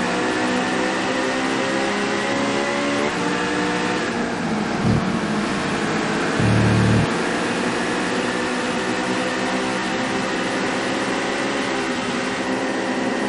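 Lister Storm race car engine in TOCA 2 Touring Cars at Oulton Park International, a loud continuous droning roar that holds steady with slight shifts in pitch and a couple of brief thumps, with no talking.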